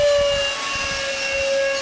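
Nitro Planes F-15 camo RC model jet with a 64mm ducted fan flying overhead, giving a steady, loud, high-pitched fan whine that holds continuously throughout with no talking.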